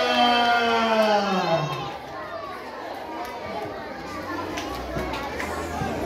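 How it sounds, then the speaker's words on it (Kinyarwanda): A church congregation at a Pentecostal children's gathering in Bujumbura erupts in lively cheering, with excited children's voices and crowd shouts rising together. The cheering starts loud and stays steady under a busy crowd din. "Amashyi menshi cyane."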